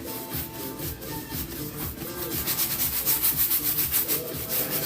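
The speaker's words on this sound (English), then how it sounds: "scrubbing it in the canvas, getting a nice, like I said, nice thin even coat" A brush scrubs a thin, even coat of paint into canvas with quick back-and-forth rubbing strokes, close and steady, the rhythmic scratching growing slightly stronger and faster toward the end, with no voices.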